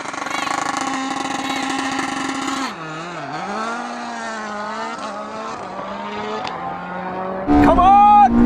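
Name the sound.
Red Bull rallycross car and Porsche hypercar in a drag race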